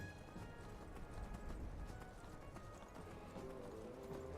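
A horse gallops in the video game Skyrim, a faint steady clip-clop of hooves running under a low game soundscape.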